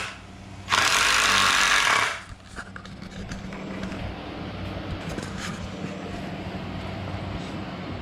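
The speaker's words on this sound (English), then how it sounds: "I drilled a little bigger hole on top so I can countersink these heads because I've got a smaller screw" A power drill bores countersink holes in wood for screws, a loud steady whir that lasts over a second and then stops. Quieter handling and workshop background follow.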